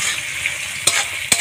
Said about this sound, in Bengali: পেঁয়াজ আর ছোলা একসাথে লাল লাল করে ভেজে নিচ্ছি।